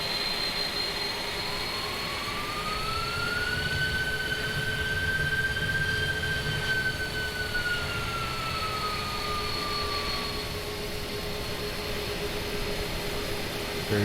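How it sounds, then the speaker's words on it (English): Airbus A310 jet engines in Microsoft Flight Simulator 2020 spool up with a rising whine that climbs, holds and slowly falls, over a constant loud roar and hum. "Quick throttle up of the engines, we'll take a listen."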